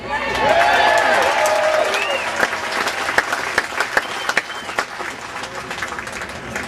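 Crowd at an outdoor Tax Day Tea Party rally in Richmond in 2010 applauding loudly with cheers and whistles, a dense sustained roar that tapers into scattered individual claps.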